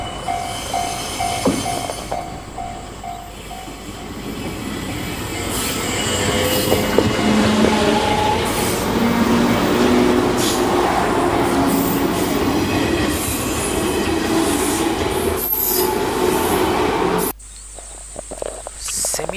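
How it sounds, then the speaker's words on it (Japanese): A red train rolls past a Japanese railway crossing, a loud sustained rumble of wheels and carriages with squealing metal, while crickets chirp and a crossing bell dings faintly at the start before the noise cuts off abruptly. "赤い電車が通り過ぎていきます。"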